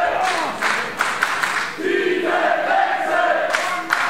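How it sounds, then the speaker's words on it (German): Wrestling crowd at an Unlimited Wrestling Firewall 2022 match demanding a title change, a dense, loud roar of many voices with rhythmic chant-like swells throughout. "das Publikum fordert einen Titelwechsel"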